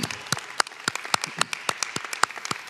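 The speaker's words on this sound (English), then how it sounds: "Please join me quickly in a round of applause and honking of horns" Audience at a 2020 high school graduation ceremony claps steadily, a dense patter of many hands at moderate distance with no voices over it.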